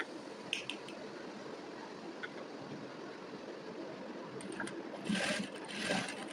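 A sewing machine runs steadily as it stitches a shoulder seam, a continuous close mechanical whir with a few brief clicks and a slight rise in intensity toward the end.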